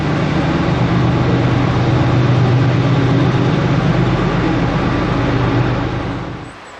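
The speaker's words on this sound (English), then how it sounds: "CSX coal train that's on the opposite side over there." A heavy, loaded CSX coal freight train rumbles past slowly, a deep, steady roar that holds for several seconds, then eases off at the end.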